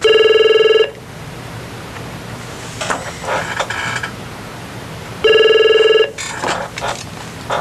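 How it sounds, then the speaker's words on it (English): Two bursts of an office telephone ringing, each about a second of electronic trilling tone, separated by quiet room sound and faint rustling or handling noises. "Watch Jose answer the phones"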